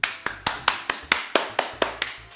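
Ten or so sharp, evenly spaced hand claps from a single person at the start of a live stream, close and crisp, arriving at a brisk steady rhythm with no talking over them.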